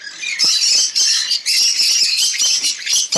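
A pet bird in a breeding cage squawks loudly and harshly in a rapid, nearly continuous series of shrill calls, very close up.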